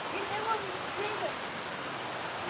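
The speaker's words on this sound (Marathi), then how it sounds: "भरपूर असा पाऊस चालू आहे" Heavy rain falling steadily in a village setting, a broad continuous hiss of drops with running water, close and fairly loud, with a few faint higher tones passing briefly above it.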